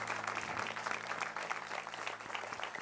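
A church congregation clapping together in a worship service, a continuous, moderately loud patter of many hands with a low hum of keyboard tones underneath.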